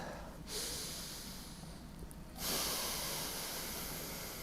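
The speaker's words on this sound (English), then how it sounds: "Breathing from the dantian through the nose." Breaths drawn in and pushed out through the nose during Tai Chi practice come as long airy hisses close to the microphone. A quieter stretch sits between two strong nasal exhalations.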